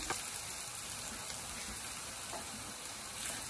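Onion and garlic browning in a pan for dinner, a soft continuous sizzle with faint pops, steady and unbroken, quiet with no talk.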